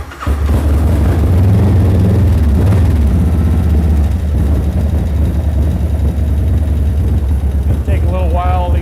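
An engine started with full choke on a cold start catches and settles into a loud, steady low idle that runs the whole time, with a brief rise in pitch near the end.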